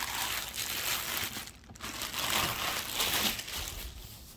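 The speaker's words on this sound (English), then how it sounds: "we're going to unwrap the plastic that this comes in" Plastic packaging crinkling and crumpling as a Shark PowerDetect DuoClean vacuum cleaner is unwrapped, a continuous close rustle with louder crunching swells throughout.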